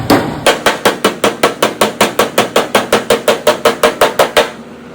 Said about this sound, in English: I'm kind of knocking the hammer off of it